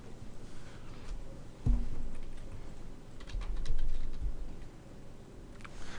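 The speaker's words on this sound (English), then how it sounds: "So I'm going to type in close." Keys tapped on a computer keyboard while a command is entered, a quick irregular patter of clicks with a couple of heavier thumps, close and moderately loud over steady room hum.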